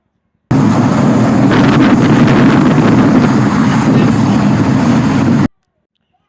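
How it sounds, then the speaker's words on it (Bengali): Strong wind gusting through a small park in America, a loud, steady rumbling roar buffeting the microphone for about five seconds, then cutting off abruptly into silence. No one speaks. "এখানে বাতাস এবং আর্দ্রতা অনেকটা ভয়াবহ, যেটা আমি আপনাদের শোনালাম।"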